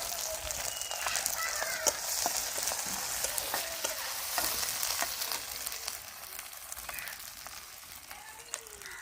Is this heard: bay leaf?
yes